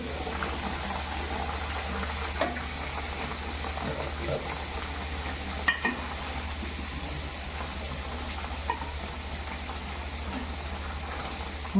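Spinach simmers in a pot on the stove for palak paneer, giving a continuous soft bubbling hiss with a low steady hum and a few faint clicks.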